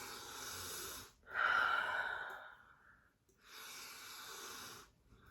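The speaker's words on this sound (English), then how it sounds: "Deep breathing." Slow, deep breaths drawn close to the mic during a hands-on face massage in a morning skincare routine: three long airy exhales with brief quiet gaps, no talking.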